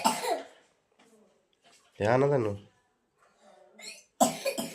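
A sick boy coughs hard in one short burst, with quiet talking before and after.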